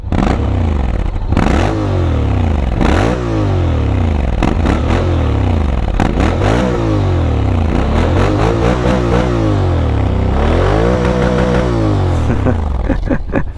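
A 2024 Honda X-ADV scooter with its stock exhaust is revved over and over, each blip rising and falling in loud, close, throaty bursts with brief pauses between them.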